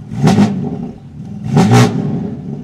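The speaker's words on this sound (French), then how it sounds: "Voilà, donc on entend bien la ligne en titane." A stage 2 BMW M3 Competition with a titanium exhaust line and its exhaust flaps open gives two short, loud throttle blips, each rising and falling close by, with no talking.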